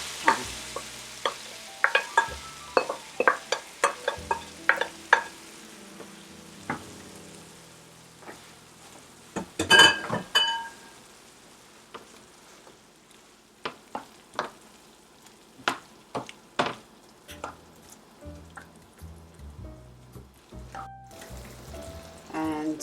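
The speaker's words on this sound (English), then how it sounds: "I'm going to add the grated tomatoes to this pan." Grated tomatoes fry in a pan with onion and potato for Estamboli polo, with scattered scrapes and knocks of stirring over a soft, steady sizzle, moderately close.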